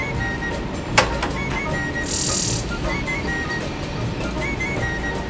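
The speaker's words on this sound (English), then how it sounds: "Black-throated green warbler." Bird song in a recording played back indoors: a thin high trill of a black-throated green warbler sits briefly over a steady background hiss, with a sharp click just before it.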